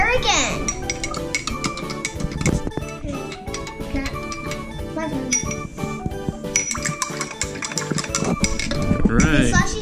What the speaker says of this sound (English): so now let's stir again